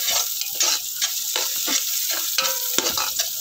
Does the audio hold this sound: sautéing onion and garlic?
yes